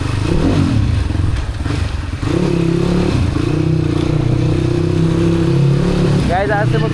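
A motorcycle ridden on a road near Gurung village with a steady loud engine drone close up, some rattling and scraping, and a brief throttle change near the end.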